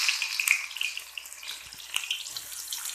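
Chopped onions dropped into hot oil in a wok for a broiler chicken curry, giving a steady close sizzle and crackle with brief sharper spits, no voices over it.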